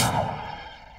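A fiery Incendio spell cast in Hogwarts Legacy, a single loud whooshing burst at the start that rumbles and fades over about a second, with no voices.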